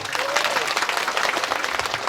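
Listeners at a Sundanese-language Islamic sermon gathering applaud the attendees from Ranca Jigang, producing a thick, continuous wash of clapping from a large crowd with no pause.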